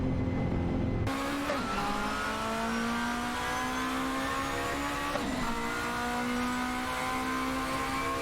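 Ferrari F360 GTC and Lamborghini Gallardo GT3 race cars in a racing video game, their engines revving hard with rising pitch broken by a few gear shifts, loud and continuous with no talk.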